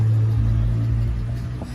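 Toyota Altis car engine idling after a remote start, a steady low rumble held close and even throughout with no voices.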